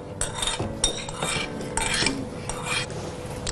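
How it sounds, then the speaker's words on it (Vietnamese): Spoon stirring tapioca pearls into a pot of Vietnamese banana sweet soup, soft irregular scrapes and clinks against the pot, close and fairly quiet, with no talking. "Em khuấy nhẹ tay cho chị"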